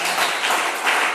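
Short burst of audience applause at a church sermon, a steady dense patter of clapping filling the moment without a break.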